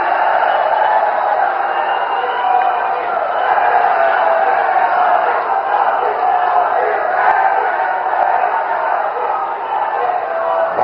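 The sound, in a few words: crowd applauding at rally for Prime Minister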